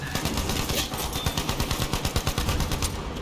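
Rapid automatic gunfire in the video game Battlefield V, a dense, loud stream of rattling shots with a steady rhythm, close and continuous throughout.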